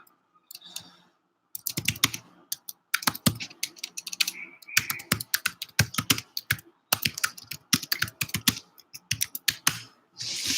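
Bursts of clicky typing on a computer keyboard, close and fairly clear, with short pauses between flurries of keystrokes and no talking.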